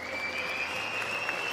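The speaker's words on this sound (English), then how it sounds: "horn and hand clap" A canned applause sound effect plays during a livestream shout-out, a short, even wash of clapping hands with a sustained tone running over it, steady and moderately loud throughout.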